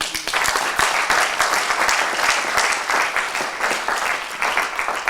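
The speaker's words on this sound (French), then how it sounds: "Je voudrais également qu'on applaudisse mon ami Francis du Bénin," Audience applause at a Campus JEA 2022 entrepreneur pitch event: a dense, steady wash of many hands clapping, held at an even level for about five seconds with no voices over it.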